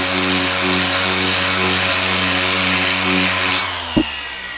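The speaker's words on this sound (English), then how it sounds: "we'll just do orbital sander just so you can see" An orbital sander runs loud and steady with a buzzing harmonic drone, then cuts off abruptly, followed by a brief knock and quiet; no one speaks.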